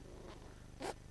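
A single short, sharp sneeze bursts out near the end of a quiet moment, close by.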